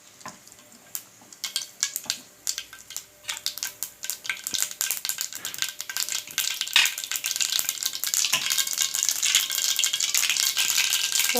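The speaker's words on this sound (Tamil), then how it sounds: "எண்ணெய் சூடாகிடுச்சு. கடுகு போட போகிறோம்." Mustard seeds dropped into hot oil for a bitter gourd pickle, popping and crackling in sharp irregular bursts that grow denser and louder until they merge into a steady close sizzle.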